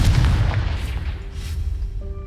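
In the video game Hogwarts Legacy, a Confringo fire spell explodes with a heavy, booming blast that erupts at once and rumbles off over about two seconds, with crackling debris and a faint tonal ring at the end.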